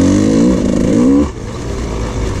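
A dirt bike engine revs hard on a tight single track trail, a loud close buzzing drone that drops to a lower steady note partway through as the throttle eases.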